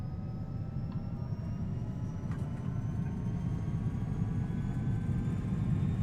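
Simulated Bombardier Challenger 300 business jet engines spooling at takeoff power in X-Plane 11, a steady broad low roar that holds evenly throughout with no talk.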